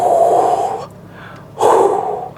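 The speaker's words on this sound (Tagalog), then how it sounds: "Sorry, hingal na naman." Heavy, close breathing after climbing a steep trail to a waterfall in Amadeo, Cavite: two loud, rough exhales separated by a brief quiet pause, with no talk.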